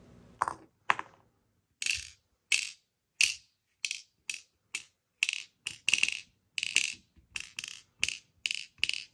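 Avocado Magnatab Mini magnetic fidget board clicking as its magnetic beads snap into place, a steady series of about fifteen sharp, close, bright clicks spaced roughly half a second apart, with no voices.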